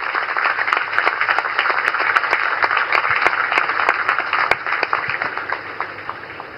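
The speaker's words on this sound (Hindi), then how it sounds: "जोरदार तालियों के साथ उनका स्वागत करें।" A large audience applauds to welcome Indian Prime Minister Narendra Modi at an Indian Navy ceremony for the warship INS Nilgiri. Sharp individual claps rise out of a continuous roar of clapping, fading slightly toward the end.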